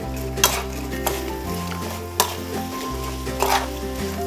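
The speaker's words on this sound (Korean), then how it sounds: "자, 이제 불을 약하게 켜고 볶아주세요." Anchovies with sugar, mirin and oil stir-fried over low heat in a pan, a soft sizzle under a low steady hum with several sharp spatula knocks and clinks against the pan.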